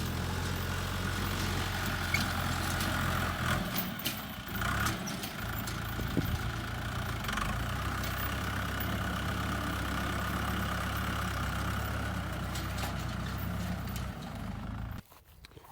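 A tractor hauling hay bales runs steadily on a Ukrainian farm, its low, even engine drone loud and close throughout, cutting off abruptly at the very end, with no talk.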